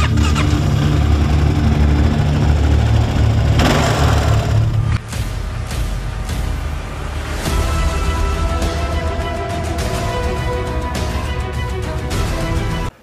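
Kawasaki KLR650 adventure motorcycle engine running steadily at idle, a continuous low mechanical rumble close by, with a brief dip near the five-second mark before the drone carries on alone.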